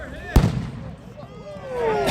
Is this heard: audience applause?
no